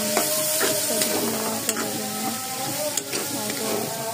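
Food fries and is stirred in a pan, a loud, close, continuous sizzle with intermittent scrapes and taps of a utensil, alongside some faint tonal hum.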